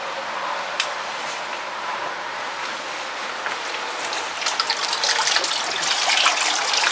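Water rushes steadily from a greenhouse heating system's plumbing, a continuous hiss and splash that grows louder and more turbulent toward the end, with occasional sharp drips and knocks.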